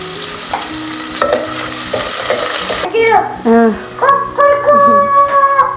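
Onions with green chillies, curry leaves and salt sizzle and frying in a home kitchen pan, with stirring scrapes and clatter over a steady crackle; a rooster crows in the background late on.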